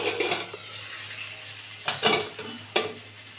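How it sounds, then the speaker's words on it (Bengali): Pumpkin frying in a pan with salt, a low steady sizzle under several sharp clattering knocks as the pieces are turned over with a utensil. "দেখি কুমড়োটা একটু উল্টে দেবো"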